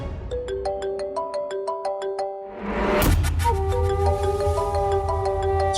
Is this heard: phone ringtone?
yes